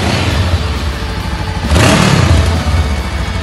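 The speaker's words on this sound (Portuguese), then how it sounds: "o ronco da sua moto" A Honda CB500F motorcycle engine revs from a rumbling idle into one loud rising blip that then falls back, heard close and alone.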